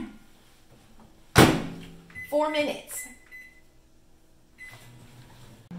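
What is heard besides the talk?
microwave oven door closing and running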